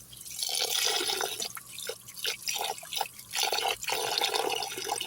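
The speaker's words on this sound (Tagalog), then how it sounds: "Magbutang na jud ko og water niya." Water poured and splashing into a pot of rice being washed, with intermittent gushes and trickles, drips and brief pauses, close and fairly loud.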